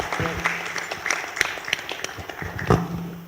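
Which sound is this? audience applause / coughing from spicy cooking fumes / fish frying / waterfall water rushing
audience applause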